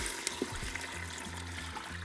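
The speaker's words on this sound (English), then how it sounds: "we're going to add our 2 cups of beef broth." Beef broth pours into an Instant Pot in one steady, close liquid stream with a bubbling trickle, lasting about two seconds with no talk.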